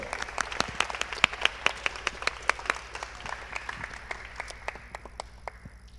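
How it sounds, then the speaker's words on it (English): An audience at a festival podcast event applauds with steady clapping, a moderately distant crowd of hands sustained for several seconds before gradually thinning out. "So, round of applause, Tsunami, Julien Rosvalet."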